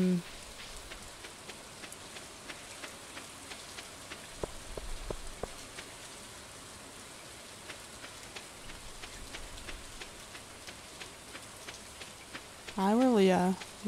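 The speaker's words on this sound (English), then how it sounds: "On this fine rainy day" Rain in the video game Stardew Valley falls as a steady, soft hiss with scattered droplet taps throughout, fairly quiet, ending with a brief burst of game music.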